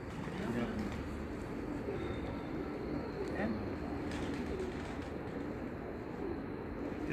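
Pigeons coo on a rooftop loft in Faisalabad, soft repeated low coos under steady outdoor ambience, with someone talking faintly throughout.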